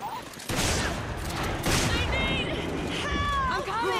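Gunfire in the Resident Evil 5 versus mode, loud and continuous bursts filling the whole stretch, mixed with game effects and shouting voices over it.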